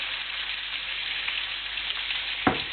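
Spicy lamb meatballs fry in a pan with a steady, close crackling sizzle throughout and one sharper pop near the end.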